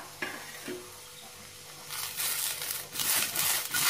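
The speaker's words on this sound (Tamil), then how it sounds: "இப்போ பாருங்க, வெண்டைக்காய் நல்லா வதங்கிடுச்சுங்க" Okra sautés in a pan with a soft sizzle. Stirring scrapes and rustles, and the sizzle swells louder toward the end. There is no talking.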